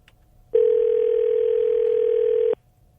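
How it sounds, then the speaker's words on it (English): A steady telephone tone sounds alone for about two seconds, clean and loud, starting and stopping abruptly with near silence on both sides. "This is someone making a phone call"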